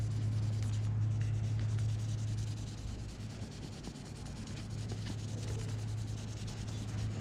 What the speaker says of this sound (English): So I took a little bit of canola oil on a rag and I just rubbed it on this handle, just like this.